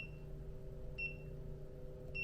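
A digital coffee scale being tared beside a Hario V60 pour-over setup gives short, clear electronic beeps, three in a row spaced about a second apart, close by and over a steady low hum.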